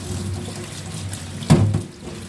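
Tap water runs steadily while dried anchovies are rinsed under it, with a brief louder splash midway as the stream hits the fish and container nearby.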